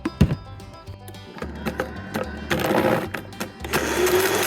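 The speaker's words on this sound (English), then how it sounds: "This blender makes really quick work of these fish, so we just do them in small chunks." A kitchen blender purees fish chunks for compost in short, choppy bursts, with clunks and rattles as the pieces catch the blades and a louder whirring stretch toward the end.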